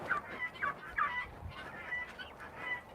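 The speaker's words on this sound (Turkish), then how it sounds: "Hindilerimiz burada." Turkeys and other farm fowl calling together in a yard, a steady chorus of overlapping gobbles, honks and clucks at moderate distance, with no talk.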